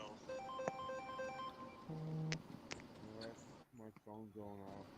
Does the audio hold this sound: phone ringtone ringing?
yes